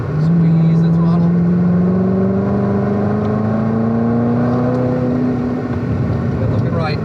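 A Corvette C7 ZR1 accelerates hard on a racetrack, its loud engine note climbing steadily in pitch through a gear, close and continuous, with an instructor's voice coaching over it.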